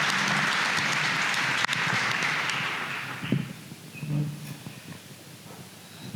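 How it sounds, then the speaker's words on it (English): Applause from a packed audience at a debate at the Apartheid Museum: a dense, steady wash of clapping that thins out and fades after about three seconds, leaving scattered claps and faint room noise. "Can we please give Sizwe a round of applause?"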